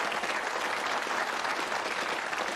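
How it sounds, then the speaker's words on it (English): Studio audience applause on a 1985 UK Bullseye game show, a dense, steady wash of many hands clapping at close range with no talk over it. "Come on, give them a round of applause"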